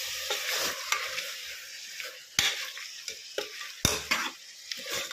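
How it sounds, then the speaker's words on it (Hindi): Meat masala fries in a pan with a bright steady sizzle, broken by repeated scraping strokes and sharp clanks of a spoon against the pan, close and clear with no talking. "मीट का कलर चेंज होने तक इसे अच्छे से भून लें।"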